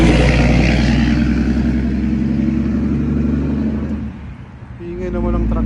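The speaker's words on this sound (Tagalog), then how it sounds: "Ingay naman ang truck na yun." A loud truck passes close by, its engine roaring and rumbling steadily before easing off near the end and swelling again, with a voice talking over it.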